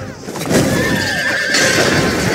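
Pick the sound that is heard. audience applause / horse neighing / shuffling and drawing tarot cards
horse neighing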